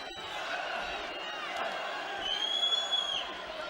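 A crowd in Almaty Arena roars and cheers during a combat sports fight, the noise swelling with scattered whoops and a sharp whistle toward the end, while a commentator talks over it.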